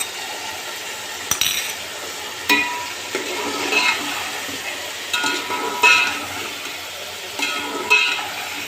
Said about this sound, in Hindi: लहसुन अदरक शामिल कर देंगे और जो साथ ही हमारी हरी मिर्ची है, इन दोनों को भून लेंगे।